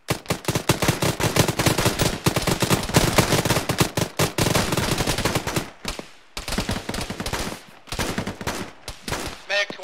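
Covering gunfire in an Arma combat scenario: dense, rapid automatic bursts crackle almost nonstop, loud and close. Brief pauses break the volleys before more shots follow.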